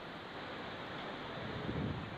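The swollen Kaveri river roars in heavy rain in Kodagu, a faint, continuous broadband rush of water with no voices.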